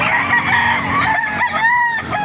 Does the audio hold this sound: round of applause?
no